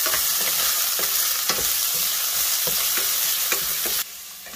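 Onions sautéing in a pan for an oats upma with egg, with a loud, constant sizzle and regular spoon-scraping stirs, ending in a slightly quieter stretch.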